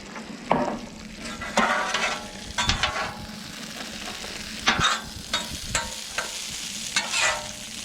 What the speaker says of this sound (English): Now we'll go ahead and add our asparagus.